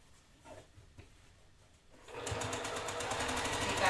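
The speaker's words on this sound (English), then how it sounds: "Slow down when you get to the pin to sew through it." A sewing machine stitches through quilt fabric and pins, starting after a quiet couple of seconds and then running loud and steady with a rapid, even needle rhythm close by.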